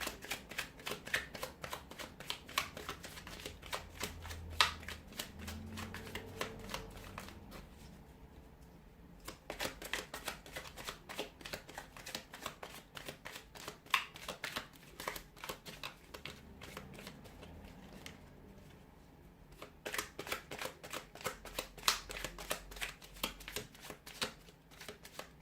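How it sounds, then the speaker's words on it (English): Repeated bursts of tarot cards being riffled and shuffled, crisp rapid flutters in several rounds with short pauses between, close and clear, no talking. "give the cards a shuffle"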